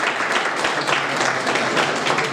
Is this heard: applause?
yes